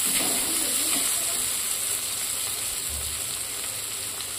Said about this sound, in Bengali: টমেটো আর পেঁয়াজটা একসঙ্গে নাড়তে থাকলাম।